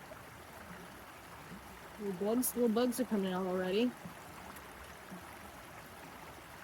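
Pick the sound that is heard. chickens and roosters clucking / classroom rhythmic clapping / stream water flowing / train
stream water flowing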